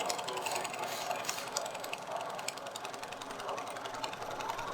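A ratchet tightening Chevelle engine mount bolts, rapid fine clicking that runs continuously at close range over a faint background hiss, no talk.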